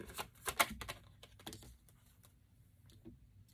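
Tarot cards being shuffled give a burst of quick riffling clicks and soft slaps up front, then thin out into a few scattered taps, close by and fairly quiet, with no speech.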